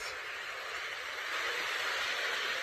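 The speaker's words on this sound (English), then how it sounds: "So I'm going to turn on the train." A toy train runs with a steady, whirring hiss, constant and moderately close, with no talking.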